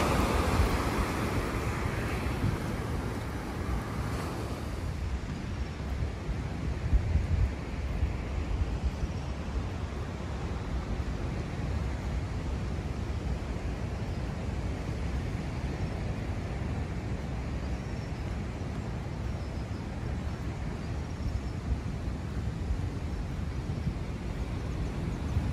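Waves roll onto the small beach of Playa Chica in Puerto de la Cruz, Tenerife, a steady roar of surf mixed with wind buffeting the microphone, continuous and fairly loud with no voices.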